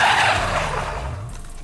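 An SUV climbing an obstacle on a test course, with a loud engine roar and a sliding scrub of tires fading into a low, labored drone.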